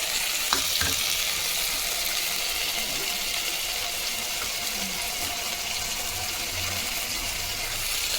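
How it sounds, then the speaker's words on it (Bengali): After a couple of brief knocks, a loud, dense sizzle fills the air as ginger, garlic and tomato paste hits onions frying in oil, holding steady and close throughout. "এবারে আদা রসুন টমেটো দিয়ে বাটাটা পেস্ট করা ছিল দিয়ে দিচ্ছি"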